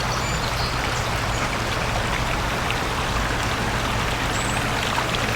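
Garden waterfall splashing steadily beside ornamental grasses at a nursery, a continuous broadband rush of falling water close by and unbroken throughout, with no talking.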